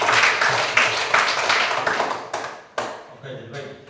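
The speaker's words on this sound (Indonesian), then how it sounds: "Kita berikan tepuk tangan." A room of people applauds for a few seconds with brisk, overlapping claps, then fades to a few scattered final claps with pauses between them.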